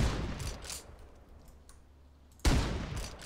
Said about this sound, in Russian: И теперь давайте попробуем наш обычный дробовик.